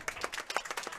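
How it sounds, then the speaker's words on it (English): Scattered clapping from a small group at a curling bonspiel on an ice rink, quick uneven claps heard faintly for a moment. "we're getting applause for the B semifinalists coming off the ice"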